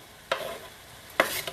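Red onion frying in a pan, two short bursts of sizzling and stirring, the second louder, over a quiet kitchen background with no talking.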